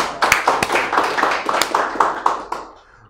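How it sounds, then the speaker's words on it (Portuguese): Audience applause during a sales course lecture, a burst of distinct, fairly close hand claps with a loose irregular rhythm that thins out and fades away near the end. "Uma salva de palmas para o nosso..."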